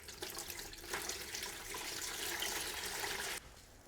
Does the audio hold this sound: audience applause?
no